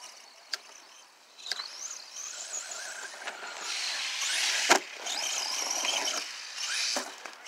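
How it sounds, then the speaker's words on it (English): A Senton RC car fitted with a Surpass Hobby 3600kv motor runs with a high, whining squeal that rises and falls, mixed with clicks and scrapes as it drives nearby. "But I'm super impressed by this Surpass Hobby motor in here."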